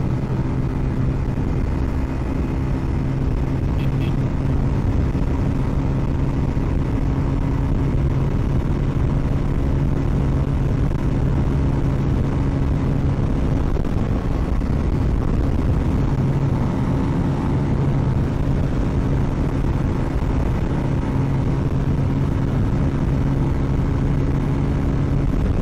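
A 2010 Bajaj Pulsar 150 BS3 motorcycle cruising in fifth gear, its engine droning steadily with a constant hum and wind rush throughout, loud and close with no let-up.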